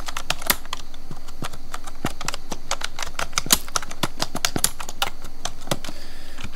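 Rapid, even clatter of keys on a computer keyboard, close and crisp, with steady keystrokes continuing for several seconds and no talking.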